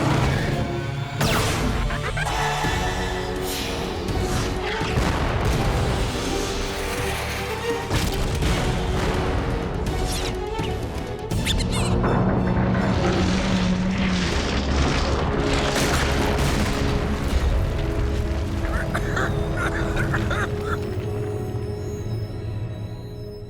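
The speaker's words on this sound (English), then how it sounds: "Heavy artillery coming in!" Cartoon artillery fire and explosions from the Slugterra movie The Emperor's Revenge: a dense, continuous barrage of booms, crashes and blasts with swelling score, loud and sustained throughout, with brief shouted voices buried in the din.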